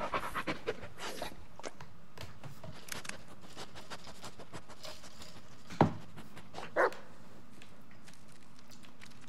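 Dog Bullet panting in the Blair Witch video game, rapid soft breaths in quick rhythm, close and quiet, with a couple of brief sharper thumps or taps near the end.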